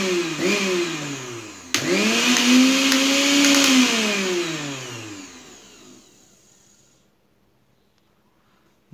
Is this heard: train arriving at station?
no